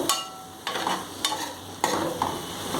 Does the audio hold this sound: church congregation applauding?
no